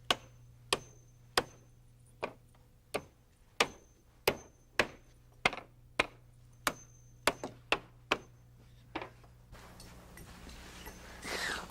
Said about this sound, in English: I start at the bottom by nailing on the first riser with 8-penny nails.